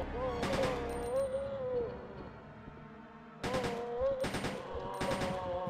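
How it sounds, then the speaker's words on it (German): Gunfire in the PS1 video game Resident Evil 1.5: loud rapid bursts of shots, one early volley then several more after a pause, with a voice speaking between them. "wir haben jetzt hier bestimmt allein in dem Raum 100 Schuss verbraucht"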